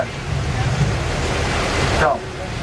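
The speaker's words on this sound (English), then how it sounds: "you can make the water so thick that it turns into a flash flood." Flash flood water effect on the Universal Studios Hollywood studio tram tour, a loud, steady wash of rushing water roaring close by for several seconds, with a voice speaking briefly near the end.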